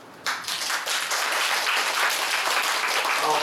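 Audience applause fills a hall after a panel talk, a steady dense burst of clapping that starts abruptly and carries on without speech.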